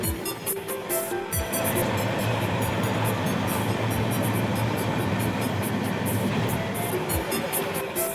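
Kirandul passenger train running from Vizag to Araku through hill tunnels of the Eastern Ghats: a continuous loud roar of the moving train with occasional dull thumps from the wheels.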